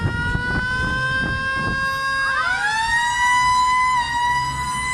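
Loud, close siren from a police vehicle at a gathering near a château, a tonal wail that sweeps and shifts in pitch partway through, briefly layered over faint voices at the start.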